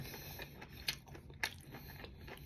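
Corn being bitten and chewed, close to the mouth, with two sharp crunchy bites standing out among softer, steady mastication noises; no talking.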